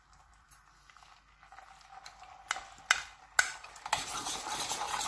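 Gelatin being stirred into sugar syrup in a pan over medium heat, spoon knocks and scrapes building into a louder continuous bubbling sizzle close by.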